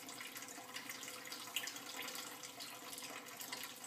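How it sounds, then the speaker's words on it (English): Water draining slowly from a bucket, a steady close hiss of running, trickling water with no break. "Slowly but surely the water starts to drain."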